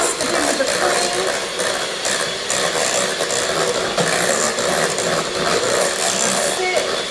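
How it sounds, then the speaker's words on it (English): Custard being whisked into cream in a bowl, a busy continuous scraping and rattling of the whisk, close and fairly loud, with a voice talking over it. "Whisk the custard in with the cream."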